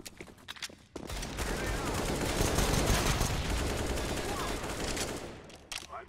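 Rapid bursts of P250 pistol fire in a Counter-Strike match, loud and dense for several seconds, layered with overlapping in-game gunfire, then cutting back to quieter game ambience.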